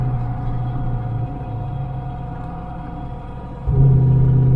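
Old, long-parked truck cruising with a low engine rumble, then the transmission kicks down and the engine note jumps suddenly louder and higher near the end.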